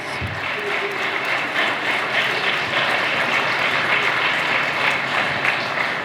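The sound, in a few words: applause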